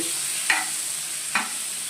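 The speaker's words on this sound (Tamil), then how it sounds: "சேர்த்துட்டு இதையும் நல்லா கலந்து விட்டுக்கலாம்." Chopped tomato being stirred into a ridge gourd curry frying in a pan, with two distinct spoon scrapes about a second apart over a steady close sizzle.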